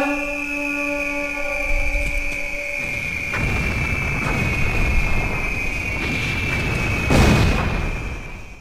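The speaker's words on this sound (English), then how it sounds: "I'm calling airstrike." An airstrike in an Enemy Territory league match sends several deep booming explosions rolling in one after another, the heaviest near the end, over a steady high whistling tone.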